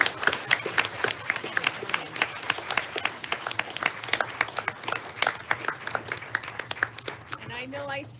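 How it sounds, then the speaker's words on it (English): Dense round of applause from attendees at a school board meeting, many hands clapping in a quick, fairly even patter that holds for several seconds, with a voice briefly heard near the end. "So we want to thank you, give you a big round of applause,"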